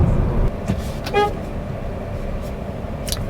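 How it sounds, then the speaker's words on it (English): A single short toot from a 2024 Fiat 500e's horn sounds amid steady city traffic noise, fairly close and clear above the rumble of passing vehicles. "Got a great horn. You're going to use it a lot in the city."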